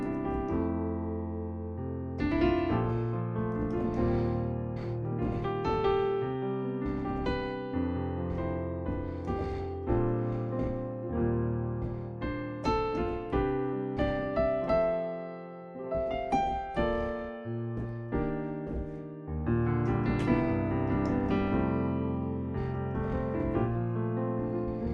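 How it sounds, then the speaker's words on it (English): Synthesized piano patch playing a slow chord sequence for a 1990s R&B-inspired track, sustained harmonic chords changing steadily over about 25 seconds, fairly loud and alone with no talking. "for the first section, I'm going to be using a piano sound"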